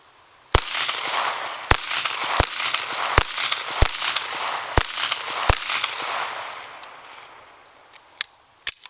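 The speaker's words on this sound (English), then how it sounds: "I'm just going to draw and fire some 357 SIG rounds out of my P239" A SIG P239 pistol fires 357 SIG rounds in seven sharp, loud shots spaced about a second apart, each ringing out over a steady outdoor hiss, with a couple of fainter pops near the end.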